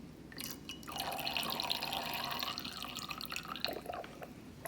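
Lemon juice drips into a homemade pH indicator solution, giving a close, faint wet dripping and trickling sound that runs steadily through the middle, with no talking.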